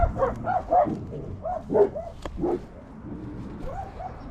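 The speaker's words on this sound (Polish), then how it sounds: "Słychać pieski w tle." Dogs bark and yip in a few short bursts at a distance, with quieter whimpering sounds and steady background noise between them.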